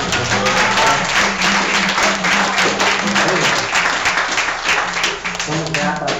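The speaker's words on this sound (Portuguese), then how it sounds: "Você pode dar uma linda salva de palmas para Jesus." Church congregation applauding together throughout, a dense steady wash of clapping with low music or voices running underneath.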